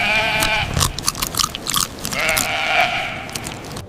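Brush-clearing goats bleat repeatedly nearby inside a building lobby, overlapping calls with some chewing and rustling between them.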